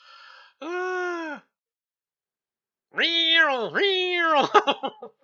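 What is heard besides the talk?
cat meowing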